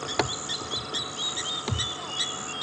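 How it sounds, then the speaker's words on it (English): Many wild birds calling and chirping together at sunset on a game reserve safari drive, steady busy chorus of overlapping tweets and whistles with a few sharper calls, moderately loud, with faint insects in the background and no talk. "fascinating scenes here, as well as sounds with all the birds calling"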